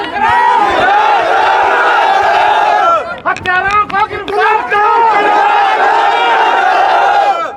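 Loud protesting crowd near a district official's office chanting slogans for justice for a dead youth's family, a roaring mass of voices that breaks into ragged shouts midway and then swells again.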